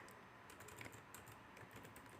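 Fingers tap on a computer keyboard while data is entered into a program, soft, quick, irregular keystrokes, faint and close, with no one talking.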